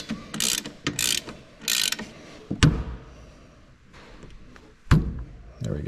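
A ratchet loosens a bolt on a Brembo big brake kit with 6-pot and 4-pot calipers and 14-inch rotors on a Z31 300ZX, giving three quick, close clicking bursts followed by sharp metallic knocks and clanks.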